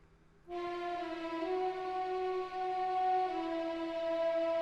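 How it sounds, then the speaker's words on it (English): A single sustained orchestral horn note from the Star Wars A New Hope score, warm and steady, entering after a short silence and holding for several seconds. "So we have that horn"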